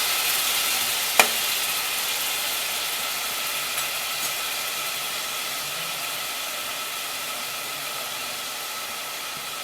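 Vegetables sautéing on a low flame for veg biryani, producing a steady, even hiss and sizzle, close and continuous, with a single sharp clink early on and no talk.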